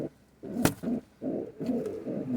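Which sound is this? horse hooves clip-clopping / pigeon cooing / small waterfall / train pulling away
pigeon cooing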